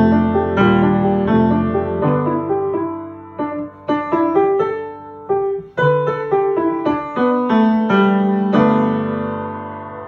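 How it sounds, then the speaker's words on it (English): Piano chords played with the sustain pedal pressed for each left-hand chord in a beginner lesson piece, with a melody over them, so the notes blend and ring into each other; close, steady, with no talking. "you need to include pedal. So make sure to pedal for each chord in the left hand."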